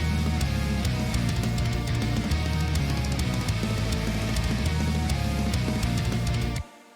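Layered keyboards playing together in a loud, full mix: a choir patch, a church organ and a Euro techno EDM pad stack into a dense sustained wall of chords over rhythmic low-end pulses, cutting off abruptly near the end.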